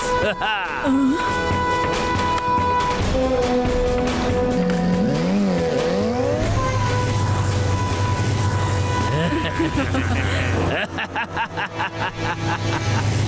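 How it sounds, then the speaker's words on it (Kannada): A cartoon gadget bike's engine starts and keeps running as a droning motor with tire-squeal-like whines and revs, while characters talk over it. "ಬೈಕ್ ಸ್ಟಾರ್ಟ್ ಆಗೋಯ್ತು."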